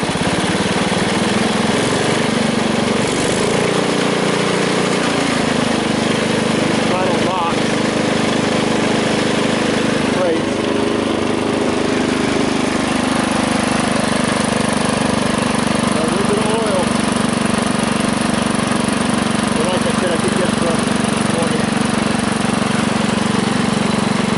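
A Bolens 1050 garden tractor engine runs steadily and loud up close, a constant droning hum with small throttle shifts throughout, alone without talk.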